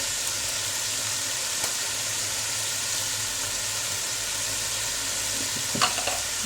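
Chicken fried rice ingredients fry in oil with a steady, dense sizzle that runs unbroken throughout, with a faint clink of a utensil near the end.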